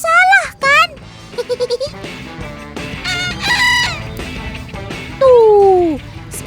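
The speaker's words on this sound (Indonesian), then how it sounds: "seperti itulah suara ayam bekisar. Suaranya pendek karena hanya mempunyai 2 nada" A bekisar, a junglefowl hybrid rooster, gives short two-note crows that ring out clearly among other bird and animal calls, with a voice speaking over parts of the sound.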